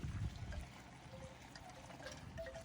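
Maple syrup poured through a filter to strip out sugar sand, giving a soft, quiet trickle and dribble that runs continuously at close range, alone without talk.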